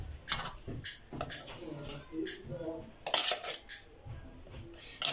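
Spoon clinks and scrapes against a bowl while ready-made cake mix and cocoa are stirred, in repeated uneven strokes up close, with a few soft voice sounds underneath.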